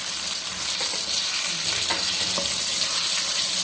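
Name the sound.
zinger burger chicken frying in oil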